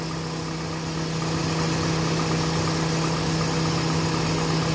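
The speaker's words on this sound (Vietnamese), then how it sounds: "Máy nổ rất chất, không có tí rung giật gì cả nhé." A Toyota Vios sedan engine idling smoothly, a steady even hum with a low constant drone and no sputter or change in pace, heard close with no talking.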